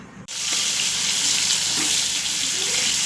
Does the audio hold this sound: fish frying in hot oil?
yes